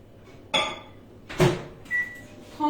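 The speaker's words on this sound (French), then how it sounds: "je vais commencer par faire fondre mon chocolat au micro-ondes tout doucement" A microwave oven used for melting chocolate is handled, with a sharp door clack, a louder thump as it shuts, then a short electronic beep and another click, close and without talk.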